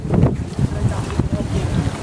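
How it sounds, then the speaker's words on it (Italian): Wind gusting across a small but busy harbour at Monastir where boats are moored, a steady rushing buffet against the microphone with low rumbling gusts, close and fairly loud, no talking. "Oggi c'è vento qui al porto."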